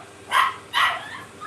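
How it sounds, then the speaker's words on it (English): A dog gives two sharp, fairly close barks in quick succession against a quiet background. "Now that's my dog."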